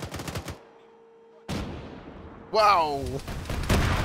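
Gunfire in the Arma military shooter with the RHS mod, aimed at tanks on a snowy pass: a sharp burst of shots, then a loud blast over a ringing, warbling tone, with excited voices shouting over it.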